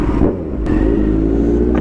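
Cars in a flag-waving rally fill a Patna street with a loud, steady engine rumble and revving close by, with a brief sharp knock partway through.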